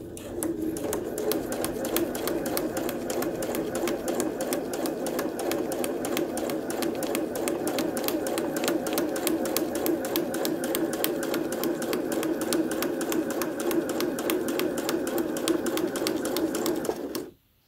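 A sewing machine stitches through paper-pieced fabric in one steady, continuous run with a fast even rhythm, close and loud, stopping abruptly at the end.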